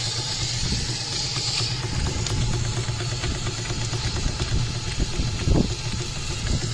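A Case steam traction engine chugs and hums continuously at close range, with a rhythmic running beat and a faint hiss over it.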